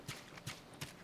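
In The Last of Us, a horse trots and its hooves make three quick, evenly spaced clip-clops over soft game ambience.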